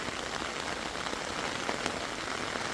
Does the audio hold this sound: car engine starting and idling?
no